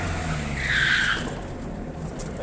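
A Fiat Uno 1N Turbo Diesel's tires squeal briefly as it brakes hard, a high screech over steady road and engine noise that fades after about a second.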